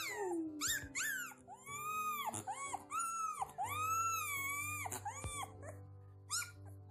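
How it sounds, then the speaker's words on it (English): A young wolf pup howls in a series of wavering, high-pitched rising and falling calls mixed with whimpers and yips, close and fairly loud, with no one talking. "I remember Loki's first howl."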